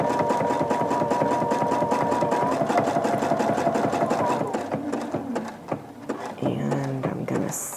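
A sewing machine sews a decorative applique stitch around a tree shape on a Christmas towel, a loud, steady rapid needle rhythm that runs several seconds before slowing and stopping, with small handling sounds after.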